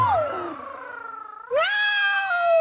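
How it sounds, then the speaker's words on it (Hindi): A cat meows inside a palace, two drawn-out, wavering cries close by, the second louder and more insistent, with no voices around it. "महल में बिल्ली आ गई है, बिल्ली"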